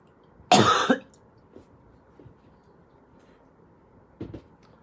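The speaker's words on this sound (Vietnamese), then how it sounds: "Ho nhiều luôn." A person sick and sweating with COVID coughs indoors: one loud, harsh cough burst near the start, then a couple of faint throat sounds and a shorter second cough near the end, without talk.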